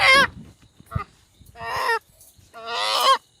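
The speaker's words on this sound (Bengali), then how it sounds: "দেশি মুরগি এই কারণে ডাকে বেশি" Loud, harsh honking calls from desi (native) chickens on a farm at night beside a jute field, in three drawn-out bursts with short gaps between them.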